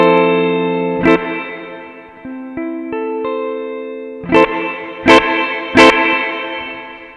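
An electric guitar plays through a BOSS RV-6 reverb pedal with its tone control turned up, giving a brighter, crisper reverb tail. A ringing chord, a few soft single notes, then several sharp strums that decay slowly, played alone.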